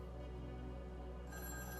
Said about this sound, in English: I heard the distinct sound of a phone ringing